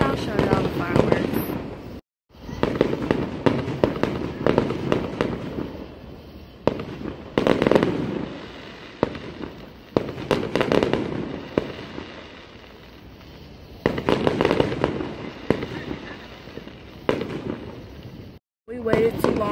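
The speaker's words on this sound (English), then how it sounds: "Now the fireworks are going off." Fourth of July fireworks burst repeatedly and loudly, with booming explosions and crackling in irregular clusters, while voices are heard now and then between the blasts.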